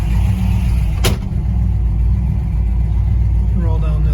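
The engine of a 1965 Plymouth Belvedere rumbles steadily and loudly from inside the car, a deep continuous drone with a sharp click near the start and a voice talking over it.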